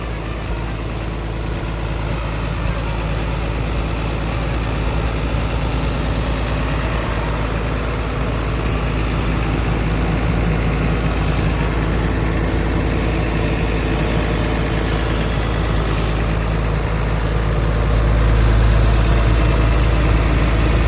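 A Caterpillar 320D-E 20-ton excavator's diesel engine idles steadily and loudly up close, with a deep constant rumble that swells slightly near the end.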